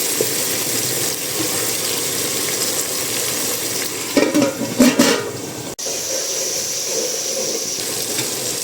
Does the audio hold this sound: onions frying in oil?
yes